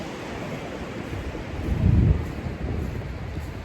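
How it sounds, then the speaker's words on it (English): Atlantic Ocean waves wash onto a beach, a broad, steady rush muddied by wind buffeting the microphone, swelling briefly into a louder surge in the middle before settling back to a continuous roar. "hope you can hear the waves."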